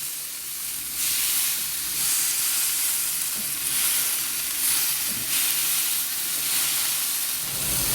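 A plain minced meat patty hits a hot frying pan for a toast burger, giving a loud, steady sizzle and crackle that swells after the first second and carries on unbroken.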